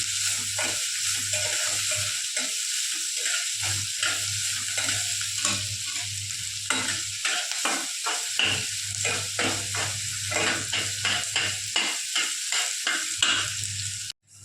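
Chopped onion frying in a pan while being stirred, a continuous close sizzle broken by rhythmic scraping strokes of a spatula and a low background hum that cuts in and out.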